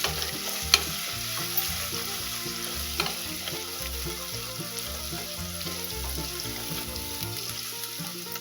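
Spice masala fries in a pan with a constant sizzle, while a spoon scrapes and stirs in frequent clinks and knocks, close and steady, with no talking.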